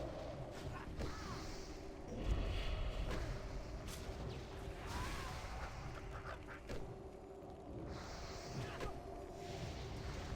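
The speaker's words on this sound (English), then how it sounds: "You like that arcane explosion execute," Arcane explosion spells fire in a World of Warcraft dungeon run through Scholomance, giving dense layered bursts and whooshing magical blasts over constant combat noise, with a louder cluster around the middle and steady game ambience throughout.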